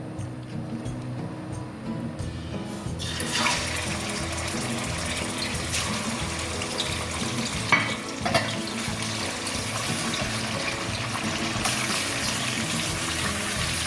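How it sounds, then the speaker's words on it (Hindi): Mutton lowered into hot oil in a karahi for a dhaba-style Pakistani/Indian curry, giving a steady, fairly loud sizzle and splatter that swells after a quiet start and runs on without talk. "ऑयल गर्म होते के साथ ही अब मैं इसमें डालूँगी मटन हमें बड़े आहिस्ता से डालना है क्योंकि ये छींटे उड़ेंगे इसमें"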